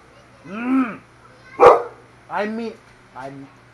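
Small dog barking in a home, four sharp yappy barks spaced about a second apart, close and loud, with a person talking between them.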